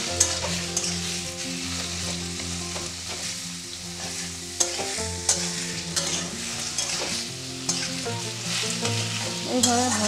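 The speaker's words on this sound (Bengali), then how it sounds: "এটাকে ভালো করে ভেজে নেব।" Bottle gourd fries in a pan with a continuous close sizzle, while a utensil stirs and scrapes through it with repeated clinks and knocks.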